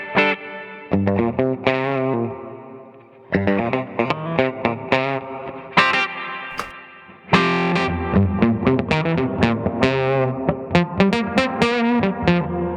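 Electric guitar on its bridge pickup through an effects pedal plays a melodic line of distorted, chorused notes and chords, loud and up front with short pauses between phrases.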